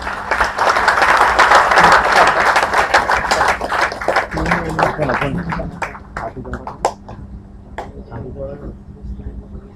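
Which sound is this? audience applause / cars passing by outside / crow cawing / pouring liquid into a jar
audience applause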